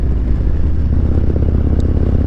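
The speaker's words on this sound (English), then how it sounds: "you hear that exhaust? It sounds really good on this bike." A steady, deep engine rumble throbs close up, low and continuous with a faint pulsing texture, from the Stage 2 exhaust of a 2021 Harley-Davidson Road Glide Special motorcycle.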